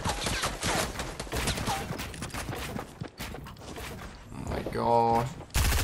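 Rapid SMG fire in Fortnite: Battle Royale rattles under excited talk, with a dense run of shots early on, a lull, then a tonal game sound and a final sharp burst.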